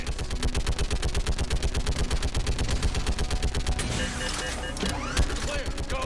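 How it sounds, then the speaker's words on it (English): Rapid turret gunfire in the sci-fi shooter Mass Effect 3, a loud sustained mechanical burst of evenly spaced shots that gives way to scattered blasts and game effects near the end. "I didn't know this thing had a turret."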